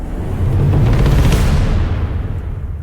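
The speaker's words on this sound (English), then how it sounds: "we are also using a drum roll as well as risers and cymbals to create" A dense, roaring swell of noise building loudly, a rumbling drum roll with washing cymbals and a rising sweep that fades out.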